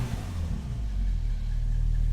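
A 1970 Mercedes-Benz 280SL engine idles after a restart with a steady, close, deep rumble that rises slightly in loudness partway through, running alone with no voices.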